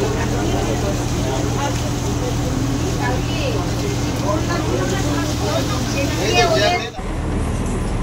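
A motor launch running on a Sundarban river tour, its engine giving a steady, loud, low drone throughout, with people talking over it before the sound cuts briefly near the end.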